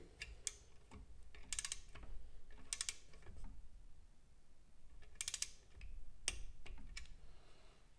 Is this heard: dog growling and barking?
no